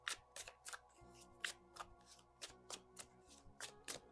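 Tarot cards are shuffled and handled in quick, crisp riffling bursts, a dozen or so sharp slaps in an uneven rhythm, quiet and close.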